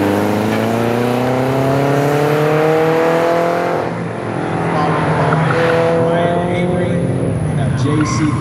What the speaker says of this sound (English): JCW Mini Cooper, I believe this is him driving for me at this time